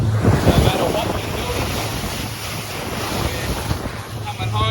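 A 2021 Quintrex 510 Freestyler runs through choppy seas, with a steady rush of water and hull slap under heavy wind buffeting on the microphone and a continuous low engine drone.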